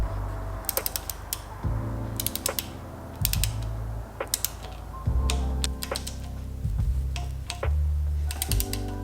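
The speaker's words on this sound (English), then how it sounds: "So let's get to torquing the bolts" Ratchet wrench torquing down the water pump bolts on a B-series engine, with repeated bursts of crisp clicking between heavier creaks and clunks of the tool, close and loud, no speech.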